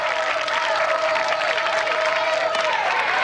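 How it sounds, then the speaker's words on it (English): A high school girls' softball championship crowd cheering and applauding in a steady, dense wash of noise with a sustained whistle-like tone, continuous throughout with no distinct voices. "The crowd's really into this game right now."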